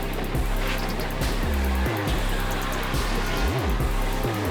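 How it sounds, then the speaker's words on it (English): A Ford Mustang and a Toyota Supra race head to head at Dezzi Raceway, Port Shepstone, their engines loud and close as they rev and shift gears in quick, rising and falling surges. "Onto a classic showdown between Mustang and Supra."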